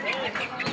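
Ducks at a village market quack in a short, busy burst of nasal calls, close by with market voices mixed in.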